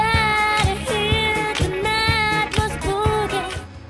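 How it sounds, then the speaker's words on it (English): A Grammy-winning disco boogie song plays loud and steady, with a punchy four-on-the-floor beat, bass line and sustained strings or vocals running throughout before cutting off at the end. "Listen to the boogie that caused the most scandalous betrayal in Grammy history."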